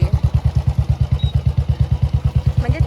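A motorbike engine with a stuck silencer runs in a loud, steady rhythmic thumping pulse, chugging evenly at close range with a faint clatter and no talk.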